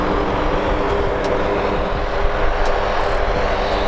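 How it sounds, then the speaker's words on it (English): Engines of a C-130J Super Hercules military transport aircraft roar as a steady, loud, broadband drone held throughout with no talk. "C-130J Super Hercules."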